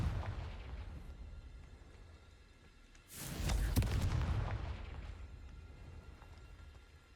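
A Confringo spell explosion in Hogwarts Legacy: one sharp burst that swells into a rumbling boom, then fades back to a low, quiet background.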